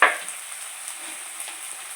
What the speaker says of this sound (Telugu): అల్లం కూడా బాగా ఫ్రై అయిన తర్వాత